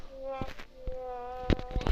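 A steady insect-like buzzing drone of a flying bee in Roblox hums close by, broken by a few soft knocks and clicks.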